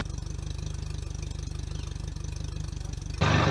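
A small outboard motor on a Quintrex 450 Fishabout Pro boat idles with a fast, even chugging rhythm, close and steady, before a sudden louder burst of noise at the end.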